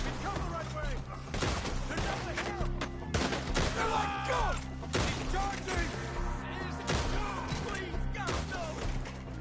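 Gunfire in Red Dead Redemption 2, with repeated sharp shots and volleys over a steady musical background, all at a fairly loud level throughout.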